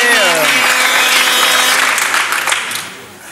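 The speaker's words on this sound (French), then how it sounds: "On va l'applaudir parce c'est que bien." Enthusiastic applause from a TV studio audience, steady clapping that fades toward the end, with a voice speaking briefly over the start.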